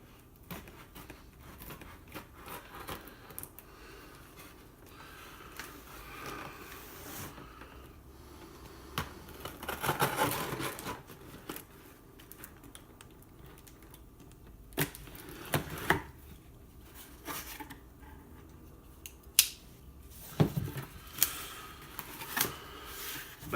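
A Sheffield box cutter slices through a blender's cardboard box up close, with scraping cuts in bursts, sharp clicks and rustling between quieter pauses.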